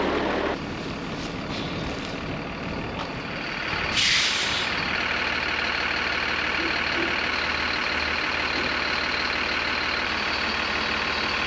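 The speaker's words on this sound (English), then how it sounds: "it would stop hissing at me if I didn't have the trailer brake disengaged" A farm truck sits with its trailer brake disengaged, and a steady air brake hiss runs under a low engine rumble, with a brief sharper burst of air partway through.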